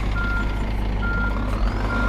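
Reversing beeps from a truck in On The Road Truck Simulator, three evenly spaced tones sounding over a loud, steady engine drone.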